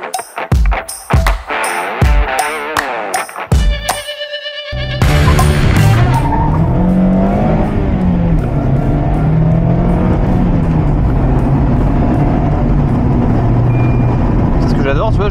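A Mazda MX-5 accelerates hard through four gears, its engine revving up in quick sharp bursts with gear-change gaps, then a sustained loud engine drone inside the cabin while a person talks over it.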